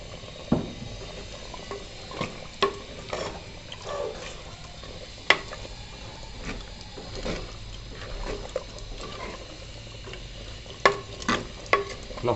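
Chicken curry simmering in a clay pot, stirred at a steady pace, with soft bubbling and scraping strokes spread across the stretch and a few sharper knocks of the spoon against the pot.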